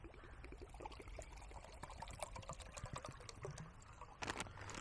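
Water is poured into a military flameless ration heater, a quiet, steady splashing and trickling heard close up with no talking.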